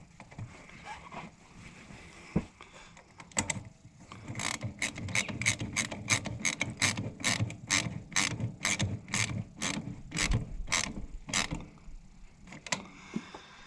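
A socket ratchet clicks in steady, rapid bursts while tightening bolts on an Oliver 60 tractor, close and clear, with a few isolated knocks and clanks before the clicking gets going.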